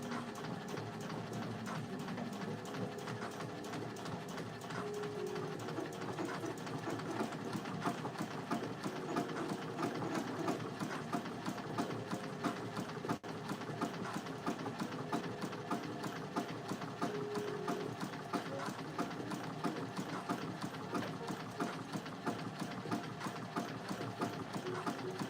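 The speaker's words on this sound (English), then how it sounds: "It's like the longest buttonhole in the world." A sewing machine runs steadily for a long stretch, stitching one long buttonhole on a Chanel-style dress, its fast rhythmic needle chatter even and moderately loud with no talk over it.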